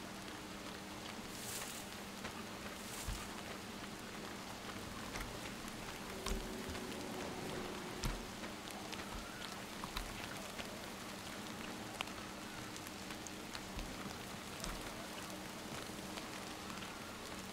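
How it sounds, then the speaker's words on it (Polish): Rain falls steadily in the video game Metro Exodus, a soft continuous patter of drops on surfaces with occasional small splashes and a low background hum, heard alone without speech. "O, deszcz pada."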